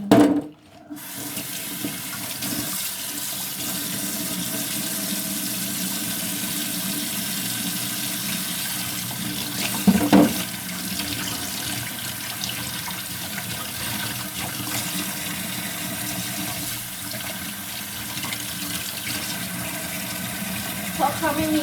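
Fish washed under a running kitchen tap, a steady close rush of water into a sink with brief splashes and handling knocks, continuous for about twenty seconds, while preparing homemade salted fish.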